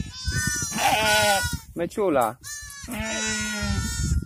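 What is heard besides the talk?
heath sheep and newborn lambs bleating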